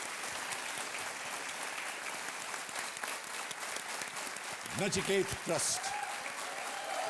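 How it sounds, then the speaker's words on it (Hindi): Studio audience applauding on the KBC quiz show stage, a dense steady wash of clapping throughout, with a voice speaking briefly over it near the end. "तालियों के साथ इनका अभिनंदन किया जाए"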